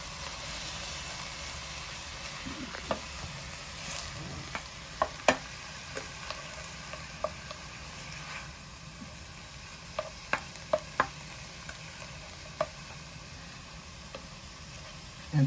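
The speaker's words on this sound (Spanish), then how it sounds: "para que se fría todo junto" Chopped nopales, onion, garlic, tomato and green chiles fry together in a pan with a steady crackling sizzle, broken by scattered sharp utensil clicks and scrapes as the mixture is stirred, with no talking.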